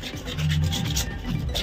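Sandpaper rubbed over a CPVC pipe joint to roughen it before solvent cementing, a steady close rasping scrape with short repeated strokes and no talk.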